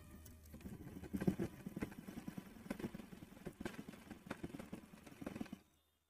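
A domestic sewing machine runs in steady rhythmic bursts, its needle mechanism clattering as it stitches fabric after a fault in stitch-forming was set right, the motor whirring nearby and fairly quiet before stopping abruptly.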